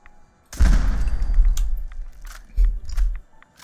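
A cannon in Fallout 4 fires two heavy booming blasts, the first long and rolling and the second shorter about two seconds later. Faint clicks and scattered noises sit around them.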